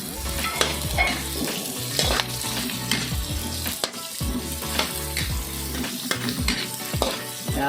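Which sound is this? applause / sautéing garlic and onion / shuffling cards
sautéing garlic and onion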